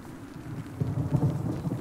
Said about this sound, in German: Das ist jetzt ein Gewitter.